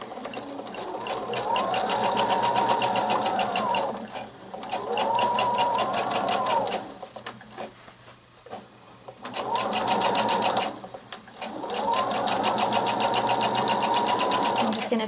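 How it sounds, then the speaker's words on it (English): A sewing machine runs in several long bursts while top stitching a pillow cover seam, its fast steady needle chatter stopping and restarting in a close, loud rhythm. "now I'm just going to get a little top stitch along this line"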